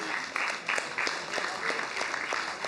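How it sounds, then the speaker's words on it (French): Audience applauding at the L'West Fest 2025 festival awards ceremony, steady dense clapping from a sizeable crowd filling the whole stretch at moderate volume. "on peut les applaudir encore une fois"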